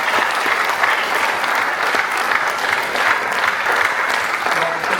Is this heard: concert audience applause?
yes